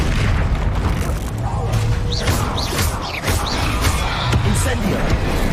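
Spell blasts in a Hogwarts video game hit with booming impacts and whooshing magical effects, several bursts in quick succession over game music, while a player speaks over the action.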